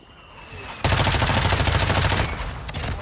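Loud, dense burst of gunfire and explosive blasts from a mortar strike in Warzone 2, starting abruptly after a quiet lead-in and rattling on continuously before tapering into scattered shots.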